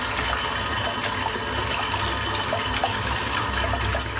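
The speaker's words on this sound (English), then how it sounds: "I'll rinse the brush out." A shaving brush is rinsed under running tap water, a close, steady rushing splash that fills the whole stretch without pause, with faint small drips and no voices.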